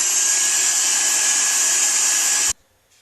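A vacuum cleaner runs with a steady loud whine while cleaning out a Philips Norelco QT4085 beard trimmer during disassembly, then cuts off abruptly near the end, leaving quiet.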